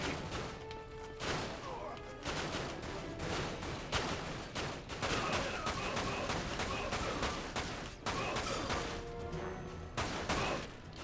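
Gunfire in the video game Final Fantasy VII: Dirge of Cerberus, with repeated shots and crashing impacts in dense bursts over a continuous battle din, loud and close throughout.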